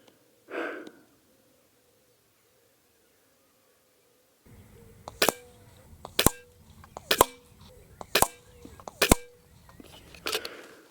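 An FX DRS air rifle, tuned under 12 ft lbs and shooting at 75 metres, fires five pellet shots, each a sharp, close crack about a second apart, after a brief breath and a silent pause.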